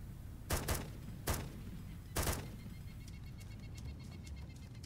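PK machine gun firing in semi-automatic mode in ARMA 2, three sharp separate shots within about two seconds, followed by fainter distant shots against a steady game background.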